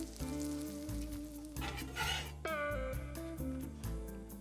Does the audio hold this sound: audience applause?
no